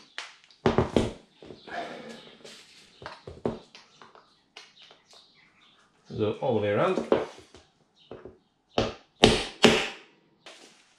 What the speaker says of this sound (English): You're just knocking the pin out of the rivet.